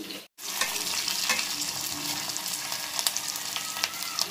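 Onions fry and sizzle in a pan for Chinese poha, a steady close hiss with scattered crackles and a few stirring scrapes after a brief dropout at the start.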